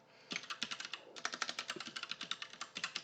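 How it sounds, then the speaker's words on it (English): Rapid computer keyboard typing during a PowerShell command-line session, a steady run of close, crisp key clicks with brief pauses and no talking. "sorry about the keyboard"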